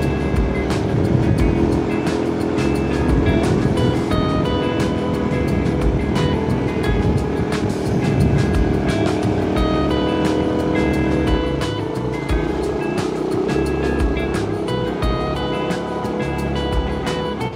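A habal-habal motorcycle taxi rides along a paved road near a communal ranch in Bukidnon. Its engine hums steadily up close with continuous road and wind noise and no talking.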